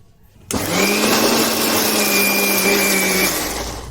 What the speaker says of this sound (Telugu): మిక్సీకి వేసుకుందాం.